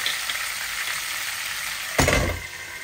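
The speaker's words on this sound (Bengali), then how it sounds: "আমার মাছগুলো আস্তে আস্তে ভাজা হোক" Pangas fish sizzles steadily as it fries in oil in a pan, a close, continuous hiss that swells briefly near the end as the fish is moved.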